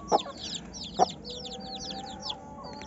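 A brooding hen that has just hatched chicks gives a couple of low clucks over steady chirping of small birds, with faint background noise throughout.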